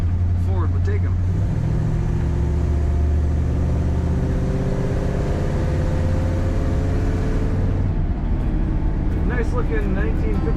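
A 1957 Ford Ranchero drives around corners, its engine humming steadily from inside the cab with a low rumble and shifts in pitch, while someone talks throughout.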